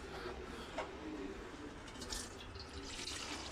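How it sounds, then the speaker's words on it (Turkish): Engine oil drains from a Fiat Grande Punto into a collection container. It pours as a steady, quiet liquid trickle and splash with no voices over it. "Hızlı ve seri bir şekilde yağımız süzülüyor."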